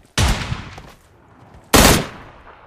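Two loud, close bursts of rifle fire from an M4 in the mobile battle royale game PUBG Mobile, each a sharp crack with a rapid rattling tail, separated by a brief quiet gap.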